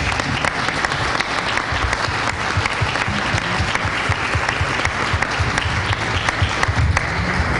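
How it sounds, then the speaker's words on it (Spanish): A large audience at a Mexican Army centenary book presentation applauds steadily and loudly, a dense crackle of many hands clapping that holds at an even level throughout. "la recibimos con un muy cariñoso aplauso"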